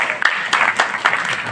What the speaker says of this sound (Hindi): जोर से ताली हो जाओ भाई इनके लिए।